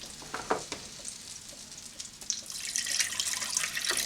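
Water is poured into a hot pan holding tomato paste, first with a few scattered splashes, then a rising, steady hiss and sizzle that builds toward the end.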